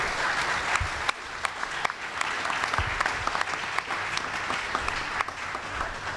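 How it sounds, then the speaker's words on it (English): Sustained audience applause at a civic discussion panel on Honolulu homelessness, a steady dense wash of clapping with a few sharper claps standing out, no talk over it. "Big round of applause, everybody, please."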